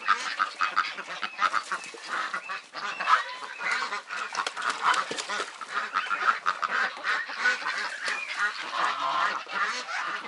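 Geese and ducks honk and quack continuously around a backyard pool, a dense, busy flock of overlapping calls close by.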